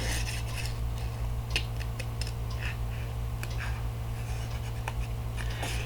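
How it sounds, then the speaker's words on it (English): Scissors cut through paper for a handmade box card, soft rasping snips and small ticks repeating in an uneven rhythm over a constant low hum. "I'm going to go ahead and cut this off because I'm getting hung up on the paper"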